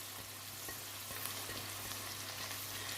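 Coriander leaves stirred into a pan of chickpea and pea pilau, a soft continuous sizzle with faint scraping stirs, close and quiet.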